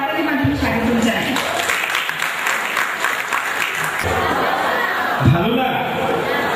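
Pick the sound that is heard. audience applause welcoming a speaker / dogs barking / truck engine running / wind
audience applause welcoming a speaker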